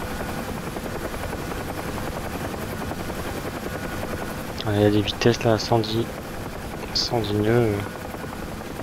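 A UH-1 Huey helicopter flies in DCS with a loud, steady rotor and turbine roar throughout, while someone speaks over it partway through.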